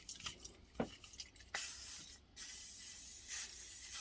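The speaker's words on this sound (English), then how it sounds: "WD-40" WD-40 is sprayed from an aerosol can in quick bursts: a few short hisses, then two longer sustained sprays separated by a brief pause, close and clear with no talking.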